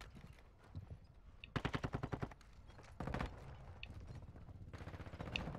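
Automatic gunfire in the Call of Duty Warzone video game comes as rapid bursts, with a long, even string of shots and then more scattered rattling volleys. The shots sound fairly distant and faint, with no voice over them.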